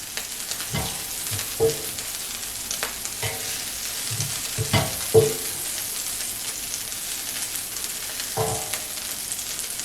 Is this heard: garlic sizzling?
yes